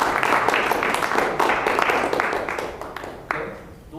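A Toastmasters public speaking meeting audience claps together, a steady wash of applause that swells and slowly fades toward the end, with no talk over it.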